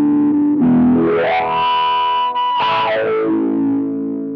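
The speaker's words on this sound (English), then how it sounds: "At maximum Q, the filters will self-oscillate." Sonuus Wahoo filter pushed near self-oscillation at maximum Q, sweeping a loud, distorted tone up into a shrill resonant whistle and back down, a continuous effect-laden sound with no talking.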